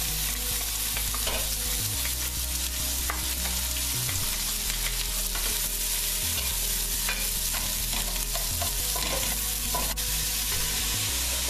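Sliced onion sizzling in a pan for Punjabi curry, with a steady loud frying hiss and repeated stirring scrapes throughout; no talking.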